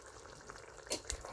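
Frozen peas go into a pan of frying keema for a takeaway-style keema madras, giving a soft steady sizzle with a couple of brief clattering bumps, close and quiet.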